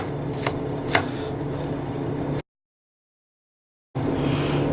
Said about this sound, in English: I'm just going to give them a little slice like this.